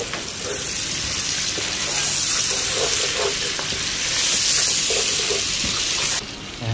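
Thinly sliced garlic with ginger and onion sizzles steadily in a hot pan for Ilocano-style duck adobo, a constant close frying hiss with occasional stirring clatter and no talk.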